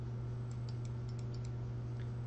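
A computer keyboard is tapped about eight times in a quick, light burst, faint clicks over a steady electrical hum, with one softer tap after a short pause.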